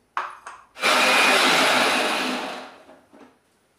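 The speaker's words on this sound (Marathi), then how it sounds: "मिक्सरच्या भांड्यात टाकून मी असंच वाटून घेते" A mixer grinder jar grinding bitter gourd: a couple of short clunks, then a loud, close, steady whirring roar for about two seconds that winds down with a few rattles.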